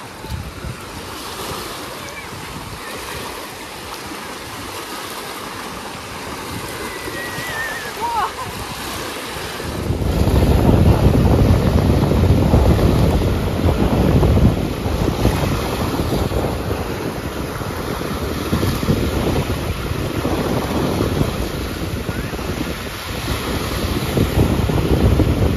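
Sea waves on the Black Sea shore at Anapa, splashing close to the microphone with heavy wind buffeting. The surf grows much louder and rougher partway through and keeps crashing steadily.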